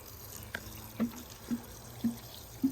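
Water poured from a container straight onto the base of a garden plant, heard as a quiet trickle broken by four or five distinct gurgling splashes at roughly half-second intervals.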